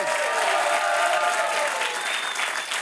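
A French TV studio audience claps throughout, a full, even burst of applause with some crowd noise and a faint tonal line underneath, holding loud for the whole span.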